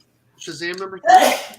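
A single sharp sneeze bursts out close by, preceded by a short voiced intake, with a person speaking around it.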